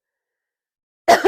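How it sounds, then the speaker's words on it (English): A short double cough breaks a silence, close and fairly loud, with the two bursts following each other quickly. "excuse me for coughing."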